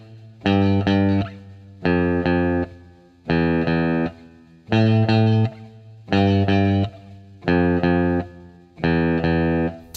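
An electric guitar plays a simple children's lesson tune on the top string, with a buzzy tone. It sounds as seven evenly spaced pairs of repeated notes, loud and close, with no voice.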